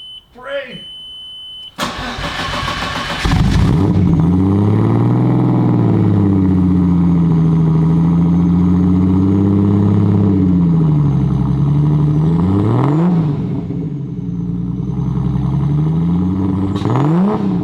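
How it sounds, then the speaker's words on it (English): A 12-valve VR6 car engine cranks and catches, then settles into a loud, throaty idle with a few rising revs through a new exhaust, close by. "start her up now with an actual exhaust"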